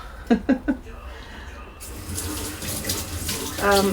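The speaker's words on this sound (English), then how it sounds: "I'll rinse my hands off." Water runs from a tap as hands are rinsed under it, a steady close splashing flow that starts after a few breathy sounds and carries on to the end.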